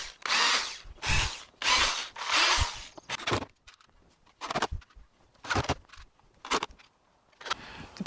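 Power drill driving screws into plywood for a beginner furniture build, several bursts of whirring roughly a second long, followed by shorter, quieter spurts, close and loud with pauses between.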